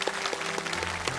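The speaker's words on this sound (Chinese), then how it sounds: "谢谢，我们掌声送给大姐。" Brief burst of audience applause for a woman at a televised ceremony honoring retired military veterans, a steady patter of many hands lasting just over a second.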